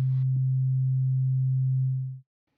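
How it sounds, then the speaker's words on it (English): A pure synthesized sine tone holds at one low, steady pitch for about two seconds after a brief click at the start, then cuts off quickly. "I model these sound waves as sine waves."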